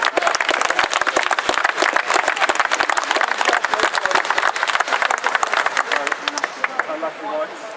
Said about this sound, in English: Well done, give yourself a round of applause.